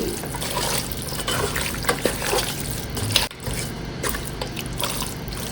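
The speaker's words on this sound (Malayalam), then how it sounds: "ഒരു 1/4 ഗ്ലാസ് വെള്ളം ഒഴിച്ചിട്ട്" A quarter glass of water splashes and trickles steadily into a pressure cooker of mutton close by, with a few brief knocks and drips along the way.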